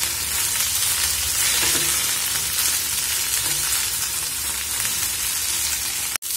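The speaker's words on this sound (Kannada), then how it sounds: "ಗ್ಯಾಸ್ ಫಾಸ್ಟ್ ಇಟ್ಟು ನಾನು ಫ್ರೈ ಮಾಡ್ತಾ ಇದ್ದೇನೆ" Spice masala with mint fries hard on a high gas flame, a loud, steady, dense sizzle that holds unbroken and close for several seconds before a sudden cut.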